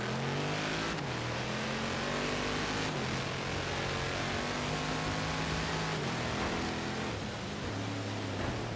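A Dodge Hellcat's engine revs and pulls hard in the Forza Horizon 3 racing game, a loud, continuous mid-pitched roar that climbs and drops through gear changes across the whole stretch.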